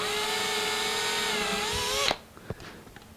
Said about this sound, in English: And I'm just going to drill it.